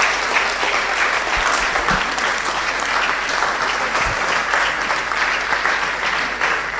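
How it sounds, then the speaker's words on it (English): Audience applause welcoming Dr. Mensa Otabil at a live event in Ghana, a steady, dense wash of many hands clapping throughout, loud and sustained with no talk over it. "Ladies and gentlemen, with a huge round of applause, help me welcome PSA Dr. Mensa Otabil."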